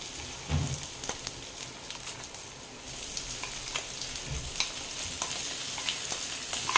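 Ground green pea paste frying in hot oil in a pan, giving a steady close sizzle and crackle with occasional stirring scrapes throughout, no voices.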